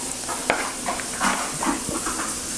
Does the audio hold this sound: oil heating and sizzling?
yes